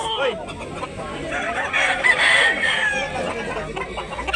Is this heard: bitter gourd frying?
no